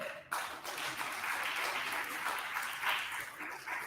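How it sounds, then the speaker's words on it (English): Applause from the audience at a stakeholders' forum, a sudden burst of clapping that swells and continues steadily, somewhat distant and roomy. "Another applause."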